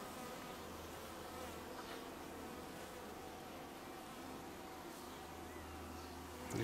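Honey bees buzz in a steady, dense drone during a beehive inspection in Arizona, close and continuous, with a low hum underneath throughout.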